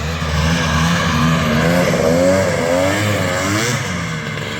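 Polaris 650 snowmobile engine revving hard nearby, a loud throaty two-stroke drone that rises and falls in pitch as the throttle is worked, with no talking.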